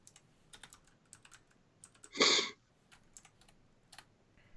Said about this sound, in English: I'm sorry for all the keyboard noises you're about to hear.